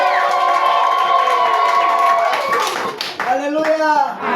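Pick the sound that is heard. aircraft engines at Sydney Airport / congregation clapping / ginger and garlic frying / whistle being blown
congregation clapping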